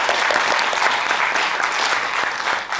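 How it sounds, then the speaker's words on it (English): An audience at a Sikh research summit applauds its panelists, a dense, steady wash of clapping that fills the whole stretch at a consistent loudness, with no voices rising above it. "So we're clap for the panelists."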